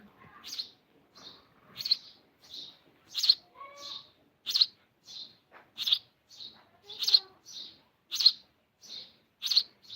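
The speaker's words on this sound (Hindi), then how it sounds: "चिड़िया चिड़िया चिड़िया चिड़िया चिड़िया है।" A small fallen bird, set out with water and rice, chirps close by in a steady series of short, sharp tweets, with a few softer whistled notes mixed in and no talking.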